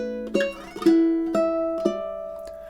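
A ukulele playing a short chord melody, four or five plucked and strummed chords ringing clearly in a slow even rhythm, close and fairly soft, alone without talk.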